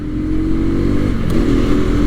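A Bajaj Rouser NS 200 motorcycle rides along with a steady, close engine drone and a slight rise in revs partway through.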